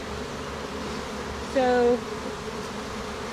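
A honey bee buzzes briefly near the microphone, a short steady drone lasting under half a second over soft outdoor background noise.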